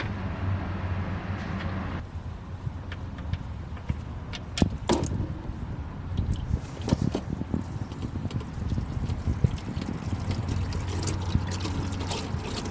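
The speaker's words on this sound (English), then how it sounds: "So we'll get our drain bucket and we'll get draining." Engine oil drains from a 2021 Mazda CX-5 Turbo into a bucket, a continuous close trickling pour under wind noise, with occasional clinks and knocks.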